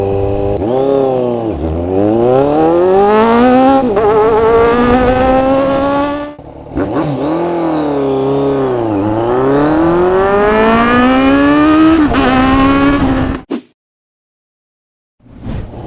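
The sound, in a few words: motorcycle revving with racing exhaust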